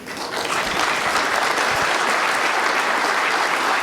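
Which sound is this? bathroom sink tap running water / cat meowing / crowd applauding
crowd applauding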